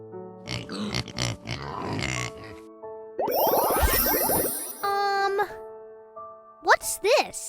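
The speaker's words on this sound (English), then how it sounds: "Pig." A pig grunting and oinking in a children's toy or learning app, a cluster of short, bright, squealing snorts between chimes, jingly effects and a voice speaking.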